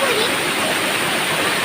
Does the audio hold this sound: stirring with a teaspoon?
no